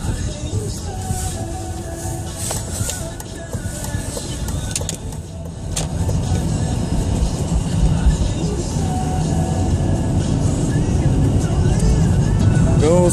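A new car driving to work after a lunch break, its engine and road noise rising into a steady loud rumble from the interior, with a brief quieter stretch early on and faint voices.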